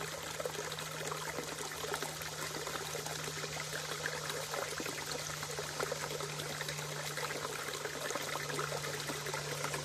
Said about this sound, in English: Came down here to the creek, give you a shot of the water flowing out here.